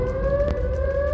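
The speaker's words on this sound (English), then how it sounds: "that's that broken siren, that broken tornado siren that happened in Chicago" A broken tornado siren in a video game wails with a steady, sustained electronic tone and harmonics above it, loud and continuous throughout, alone without speech.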